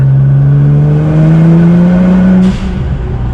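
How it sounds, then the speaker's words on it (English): A Nissan GT-R R35 accelerating at full throttle in 4th gear, its engine note rising steadily and loudly up close before abruptly cutting off near the end. "I'll floor it in 4th gear"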